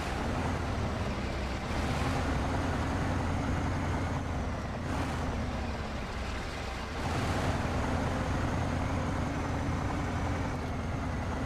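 A heavy truck engine drones steadily in a video game set in Quebec, a low, moderately loud rumble with a slight swell in the middle and no voices over it.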